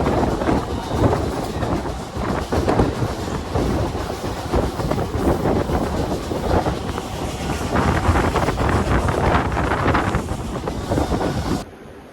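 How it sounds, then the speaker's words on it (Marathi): A train rumbles past a station platform close by for several seconds, a loud steady roar mixed with wind buffeting, then cuts off abruptly. "बघा गाईज आता आपल्याला ट्रेन भेटलेली आहे"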